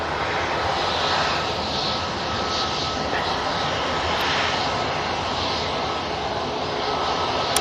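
An Emirates airliner landing at Manchester Airport gives a loud, steady broadband jet roar that holds evenly throughout, close by, with no talk over it.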